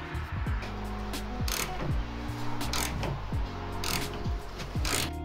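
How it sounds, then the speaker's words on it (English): A large ratchet fitted with a 17 mm socket clicks in repeated bursts while loosening rusty bolts, the pawl's rapid ratcheting close and loud, with short pauses between strokes and no talking. "I'm gonna see if I can get those bolts out with this big old ratchet here and our 17 millimeter socket."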